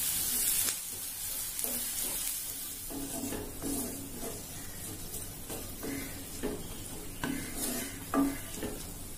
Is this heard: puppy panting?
no